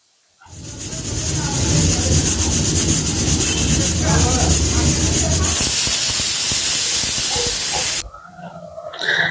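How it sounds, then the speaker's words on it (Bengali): A pressure cooker holding fish head biryani lets out a long, loud, steady whistle of venting steam that carries on for several seconds and then cuts off, leaving quieter sounds behind. "এই দেখুন সিটি লেগেছে"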